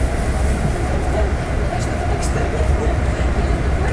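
Steady rumbling interior noise of a moving Amtrak train between Harrisburg and New York, a constant low roar with faint rattles, continuous throughout.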